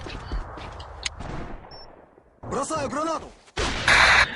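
SG-550 rifle fire in the tactical shooter CS:GO, with a couple of sharp bursts of shots late in the moment, set against game ambience and a commentator's voice.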